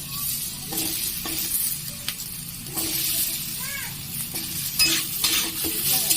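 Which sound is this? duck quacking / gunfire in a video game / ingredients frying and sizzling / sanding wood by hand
ingredients frying and sizzling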